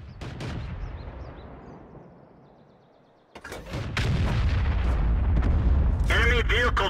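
Tank cannon fire in a World War II video game featuring M44 and Cromwell tanks: a heavy boom, a sharp second blast, then a sustained loud rumble of engine and battle noise.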